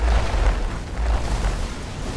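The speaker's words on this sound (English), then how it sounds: "grenade this area and try and get another huge explosion" Grenade blast in the sci-fi strategy game Age of Wonders Planetfall: a loud, sustained rumbling explosion with deep booming low end and crackling debris throughout.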